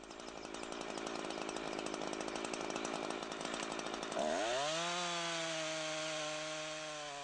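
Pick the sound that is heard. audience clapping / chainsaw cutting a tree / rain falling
chainsaw cutting a tree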